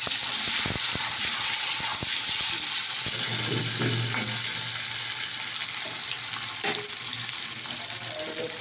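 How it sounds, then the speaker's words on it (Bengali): Food sizzling loudly right after going into hot oil, a dense hissing roar that fills the clip close up, with a few knocks and clatters of the pan early on and no speech. "তো এটা আমি তেলের মধ্যে দিয়ে দিলাম"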